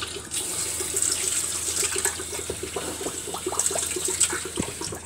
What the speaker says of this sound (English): Water on.